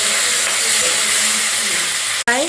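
Fish sizzling steadily in hot oil with cumin, black pepper, green chilli and ginger after being flipped, a constant close frying hiss, a brief break near the end, then a short voiced sound.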